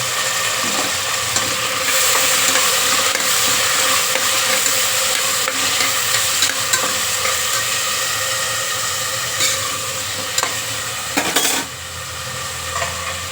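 Beans, brinjal and carrot frying in a pan for vegetable pulao, a steady close sizzle with occasional scraping stirs and a few sharp clinks, no voices.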